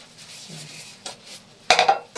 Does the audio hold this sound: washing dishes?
yes